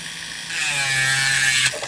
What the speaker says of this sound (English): I want to give you some time to hear the e-file work without the fan going.